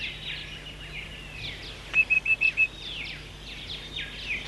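Eastern rosella parrot calling in dry open Australian woodland, a quick series of five clear piping notes amid softer chattering birds at moderate distance.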